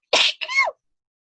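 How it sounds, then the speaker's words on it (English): A single close, loud sneeze in two quick bursts, a sharp intake-like first blast followed by a tonal second part, then silence, in an indoor knitting podcast setting. "Oh, sneezing."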